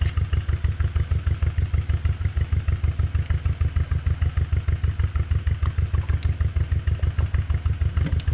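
An old farm tractor engine runs close by at a steady idle, with an even, rapid chugging pulse and light mechanical clatter throughout and no talking.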